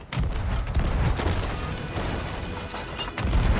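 Rapid bursts of gunfire fill a Sea of Thieves naval battle, dense and loud with heavy low thumps throughout, like cannon and gun volleys exchanged at sea, with no voices over the din.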